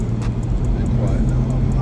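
Quiet cabin drone inside a 2024 BMW Z4 M40i driven in comfort mode, a steady low engine and road hum with a faint periodic ticking above it.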